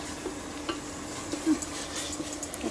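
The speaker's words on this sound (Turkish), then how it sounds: "Salçasıyla da güzelce kavuralım bunu." Purslane sautéing in a pan with tomato paste and spices gives a soft, steady sizzle, with faint scrapes and clicks of stirring at irregular intervals.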